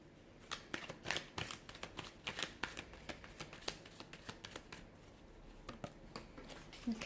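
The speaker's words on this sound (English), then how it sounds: "we'll give the cards a shuffle" Rapid papery riffles and slaps of tarot cards being shuffled by hand, close up, in several quick bursts with short pauses between.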